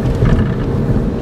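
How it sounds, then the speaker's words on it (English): Rain drums steadily on a car moving along a road in poor visibility, a dense, even wash of drops over low road rumble, close and continuous throughout. "Raining now."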